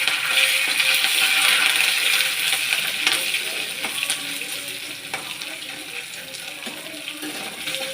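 Cumin, garlic, curry leaves and green chilli frying in hot oil, giving a continuous bright sizzle with occasional clinks and stirring, loudest at first and easing slightly.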